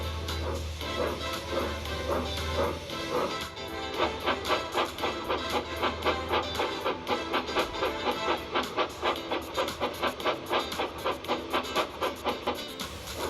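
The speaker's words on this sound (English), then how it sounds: "Once the passengers were aboard, 311 headed toward the mountain tunnel." A model train runs along its track toward a mountain tunnel, first a low rumble, then a fast, even clickety-clack of wheels over rail joints that grows steady and prominent, close up with no voices.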